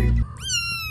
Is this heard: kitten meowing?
yes